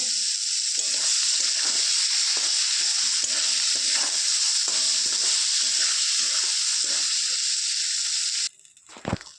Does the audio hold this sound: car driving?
no